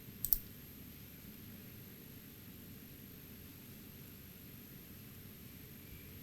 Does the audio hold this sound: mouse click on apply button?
yes